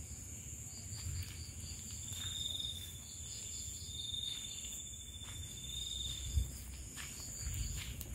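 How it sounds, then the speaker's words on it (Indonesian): Crickets chirp in a continuous high trilling chorus at night, faint and steady, with a low rustle of outdoor background noise. "mungkin teman-teman mendengarkan suara jangkrik-jangkrik yang ngerik"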